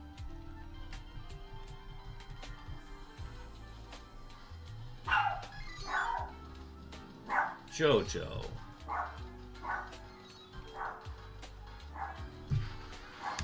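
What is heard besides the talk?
dog barking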